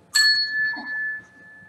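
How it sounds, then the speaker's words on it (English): A game show bell gives a single bright ding that rings on with a long, clear sustained tone, close and clean over a quiet room. "Here's the bell."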